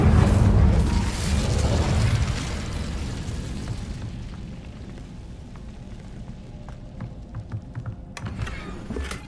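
A fiery Incendio spell bursts in Hogwarts Legacy: a loud, low roaring blast at the start that rumbles and slowly fades, followed by quieter crackles and small clicks, then a sharp burst near the end.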